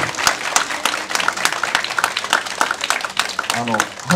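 Audience applause at a talk on a Kyoto court ruling about Fukushima evacuees, a moderate scatter of individual claps beneath a speaker's ongoing voice.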